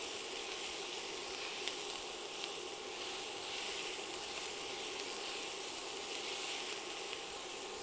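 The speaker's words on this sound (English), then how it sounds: "Onions are starting to get caramelized, but they're not getting burned yet." Onions fry in a pan and begin to caramelize, giving a steady, fairly quiet sizzle and hiss that holds even throughout without any talking.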